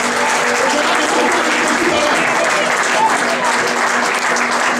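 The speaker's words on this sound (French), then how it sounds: "On acclame le Seigneur." A church congregation claps loudly and continuously in a dense, sustained burst of applause, with voices mixed in under the clapping.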